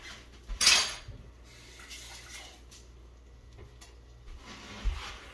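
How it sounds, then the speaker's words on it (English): A bean jar is rinsed out in a kitchen: a bright clink and splash of water near the start, quiet handling in between, and another short knock near the end. "Just enough to kind of rinse the bean jar out."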